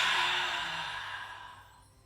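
A slow, soft exhale during a guided breathing exercise drifts out as one long airy breath that gradually fades away, close and quiet with no talking.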